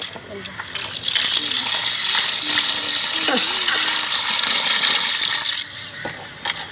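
Water gushes and splashes steadily for several seconds as crabs are washed in a basin, with a brief voice near the start.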